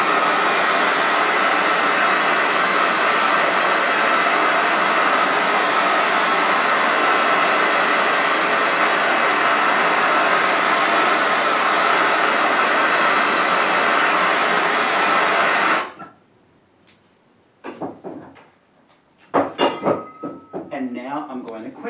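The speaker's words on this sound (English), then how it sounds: "I'm going to place this on an annealing block, and I'm going to use a simple torch" A hardware-store torch with an automatic striker roars steadily and loudly while annealing copper on an annealing block, cutting off abruptly after about sixteen seconds, followed by brief clinks and soft handling noises.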